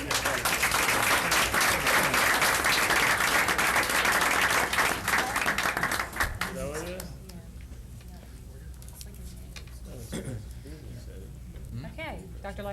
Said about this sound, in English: another round of applause for the students